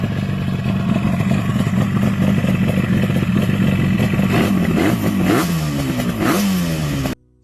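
A Yamaha RD350 two-stroke motorcycle engine runs close up with a buzzy, rattling idle, then revs rise and fall several times toward the end before it cuts off.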